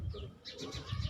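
Teddy pigeon of an old breed cooing in soft, low rounded pulses, a few coos close by across the short stretch, with faint higher bird chirps above.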